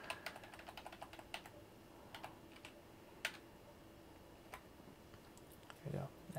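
Arrow keys tapped on a computer keyboard: a series of light, close, irregular clicks, some in quick pairs, with quiet room tone between and a brief fuller sound near the end.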